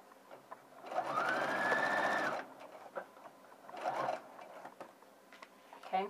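Sewing machine stitching slowly through all thicknesses of a welt pocket, one sustained whirring run of stitches followed by shorter stop-start bursts and clicks of the hand wheel.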